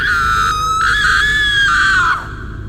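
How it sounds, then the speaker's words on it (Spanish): A woman's loud, drawn-out scream as a horror sound effect, high and piercing, held for about two seconds before it cuts off abruptly into quiet. "la pobre señora soltó un enorme grito,"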